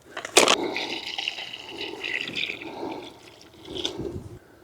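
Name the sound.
pouring water over recycled wood seating area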